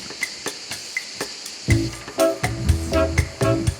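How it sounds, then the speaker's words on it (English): Crickets chirp in sharp, evenly spaced pulses on a calm morning beside a mountain stream, and partway through a louder, nearer clattering rhythm begins, though the flowing water itself is barely evident. "I like the unobstructed sounds of a mountain stream and crickets"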